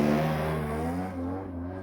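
A DA70 gas engine fitted with an aftermarket exhaust can powers a giant scale RC Extra 300 aerobatic plane, giving a steady, buzzing, harmonic drone with slight pitch shifts, heard alone and fairly close.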